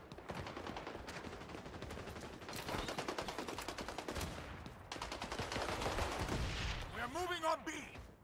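Dense rapid gunfire from the online shooter XDefiant, continuous bursts layered with game sound effects and a rising electronic tone near the end, loud and busy throughout.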